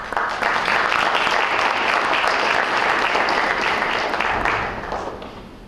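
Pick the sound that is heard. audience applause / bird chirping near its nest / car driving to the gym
audience applause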